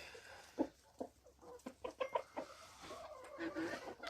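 Hens in a backyard poultry house cluck in quick, uneven bursts, a low murmur of several birds heard faintly with no talk over it.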